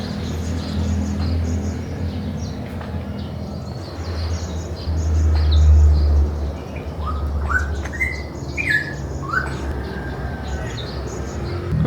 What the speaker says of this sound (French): Je vous laisse avec les cuicui des oiseaux